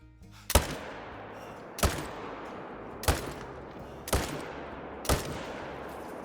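Five sharp, loud .30-06 rifle shots ring out while hunting Merriam turkey in the Call of the Wild video game, spaced about a second apart, each followed by a short decaying echo, with no talk.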